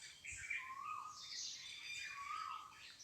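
A koel and other birds call outdoors at an ashram in Faridabad, a faint mix of squawks, chirps and calls at some distance over a quiet background.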